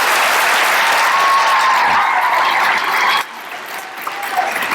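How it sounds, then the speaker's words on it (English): A large school crowd at a Veterans Day assembly claps steadily in a dense, loud wash of applause that drops off sharply partway through and then lingers as scattered, quieter clapping. "Let's give the honorable mention a round of applause again."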